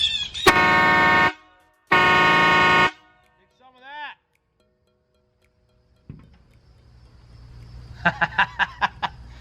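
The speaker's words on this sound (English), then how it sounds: "The horn worked this time." A 2019 Ram Rebel pickup truck's horn blasts twice in long honks, followed by a shorter bleat and then a rapid series of quick toots later on, loud and close, with a voice heard in between.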